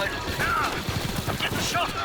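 Gunfire in a Star Wars: Galaxy at War mod battle, with a dense, continuous rattle of blaster shots and laser-like zips layered over one another.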